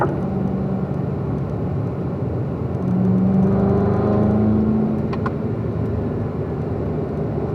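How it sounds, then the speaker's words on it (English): Car engine during a track driving lesson, a steady close rumble whose pitch rises and swells as the car accelerates, then settles back to an even drone, with no talking. "We ease the throttle"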